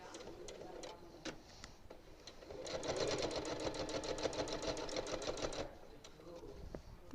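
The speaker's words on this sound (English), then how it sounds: "I'm just going to start sewing down." A sewing machine stitches quilt binding in a steady rapid run of needle strokes lasting a few seconds, with clicks before and after and a voice talking nearby.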